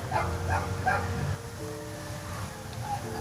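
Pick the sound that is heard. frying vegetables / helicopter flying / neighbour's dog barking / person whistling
neighbour's dog barking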